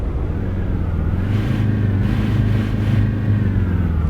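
Steady, loud diesel engine of a Magirus minibus in Euro Truck Simulator 2, a continuous low rumbling idle after start-up with no talking over it.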